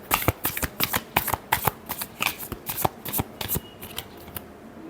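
A deck of tarot cards being shuffled by hand in a riffle or overhand motion, with a rapid series of crisp, close papery slaps and flutters in quick bursts and no talking over them.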